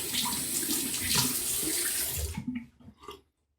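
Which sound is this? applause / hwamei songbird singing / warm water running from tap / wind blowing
warm water running from tap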